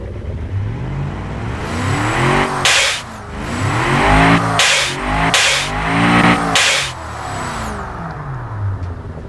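A 500hp budget-build car engine in the Automation game revs repeatedly, climbing and dropping through several loud pulls with shift gaps, close and dominant with no talk.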